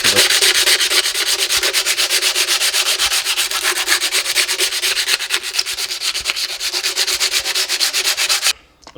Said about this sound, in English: I'm just busy taking down all the surface rust over here, all around there, and then I'm using a 60 grit.